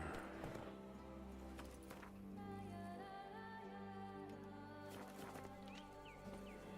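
Horse hooves clip-clop at a steady rhythm through the Witcher 3: Blood and Wine game, blended under continuous music and ambience with no talking.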